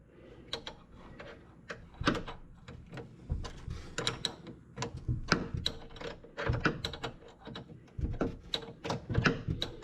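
A wrench works a nut to bolt in a car tail light, giving close, irregular metallic clicks and scraping rattles with handling knocks, and no talk.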